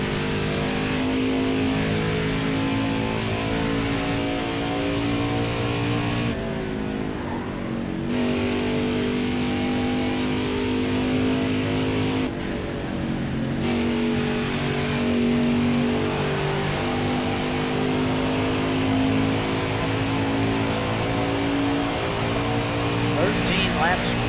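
Camping World Truck Series race trucks roaring around Pocono Raceway during the Pocono Organics 150, a steady sustained engine drone with shifting pitch under continuous commentary.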